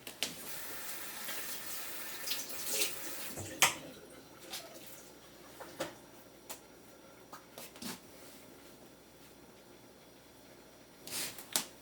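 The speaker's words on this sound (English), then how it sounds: "Just wash my hand real quickly." Tap water running in a home kitchen sink while hands are washed, a faint steady stream broken by small splashes and clinks.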